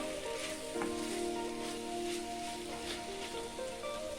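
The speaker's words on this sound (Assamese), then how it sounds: "মই প্ৰথমতে সজিনা আলুখিনি অলপ ভাজি লৈছোঁ" Drumstick pieces and potatoes frying in oil in a pan for an Assamese drumstick curry, a steady, moderately quiet sizzle with faint crackles that runs without a break and has no talk over it.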